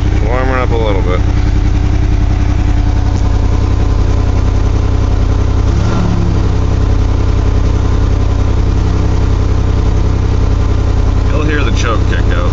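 A carbureted 1982 GMC S-15 engine idles steadily as it warms up on a 35-degree morning, a continuous low rumble with a brief louder surge midway, and voices speak over it at the start and end.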